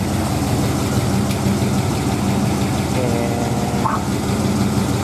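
A 383 engine, freshly fired up after a transmission install, idles steadily nearby with a low, even rumble and a faint bit of vibration throughout.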